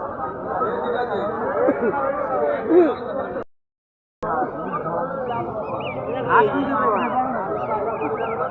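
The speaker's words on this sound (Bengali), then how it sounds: "এইগুলো কি রাজহাঁস" Geese for sale at a busy market honk in repeated nasal calls close by, mixed with crowd chatter and people talking, with a brief drop to silence partway through.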